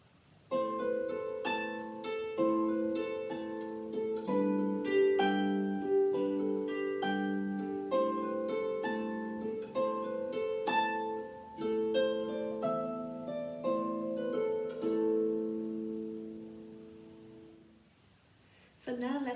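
A harp plays the third part of Brian Boru's March, with steady plucked melody notes over ringing lower strings. The playing is soft and close and fades out at the end.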